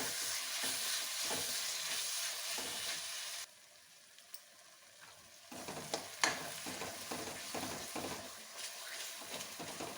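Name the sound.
tomatoes cooking and sizzling in a pan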